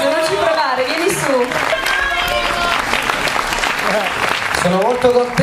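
Applause at a short film festival award event as an actress is called up to the stage; clapping runs throughout under voices speaking and cheering, with louder talk at the start and finish.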